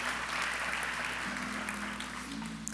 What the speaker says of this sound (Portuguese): Celebre a Jesus mais uma vez, aplaudindo ao nome dEle.